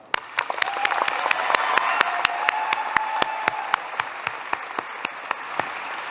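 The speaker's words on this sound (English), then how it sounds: "Let us take a moment to acknowledge that with a round of applause" A convocation audience at a college graduation ceremony breaks into steady applause. Dense clapping fills the hall with a few sharp individual claps standing out, and it carries on for several seconds.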